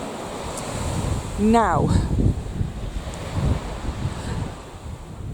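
Sea waves and wind on a Dorset beach make a steady wash of surf and gusty wind noise throughout, with a voice speaking briefly near the start.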